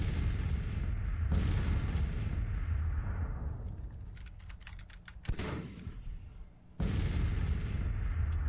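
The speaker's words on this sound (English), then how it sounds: "I'm going to try some counter-battery fire." Six-pounder Civil War cannon firing counter-battery shots in the Grand Tactician strategy game: three heavy booms with long rumbling decays over a steady battle din, alongside light rapid keyboard or mouse clicks.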